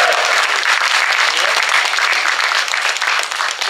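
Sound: audience cheering and applauding at a big band concert

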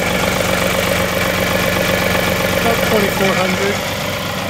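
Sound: John Deere 2038R tractor engine idling

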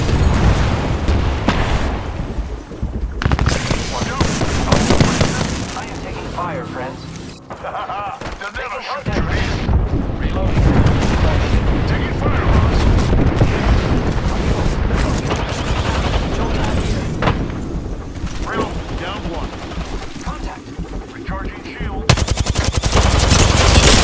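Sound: gunfire and explosions in video game Apex Legends

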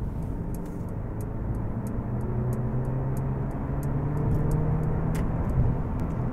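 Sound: mild hybrid car accelerating quickly in Sport mode

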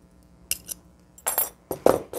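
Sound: pieces of stained glass clinking as a cut piece is pulled out

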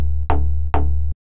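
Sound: one-shot synth pulse hit

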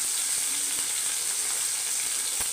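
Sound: onions and green chillies sizzling in a frying pan

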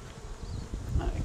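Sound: honey bees buzzing during hive brood inspection

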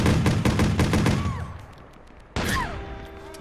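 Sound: gunfire in a video game

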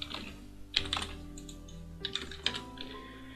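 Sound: typing values on a computer keyboard in AutoCAD

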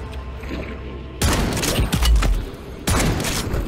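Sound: shotgun shots killing zombies in video game Modern Warfare 3 Zombies

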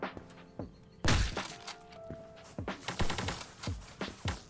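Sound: sniper rifle shots in the video game Krunker

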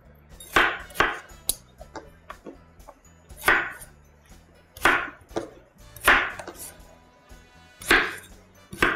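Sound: chopping tomatoes and vegetables with a knife

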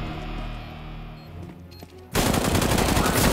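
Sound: gunfire in the video game CS:GO

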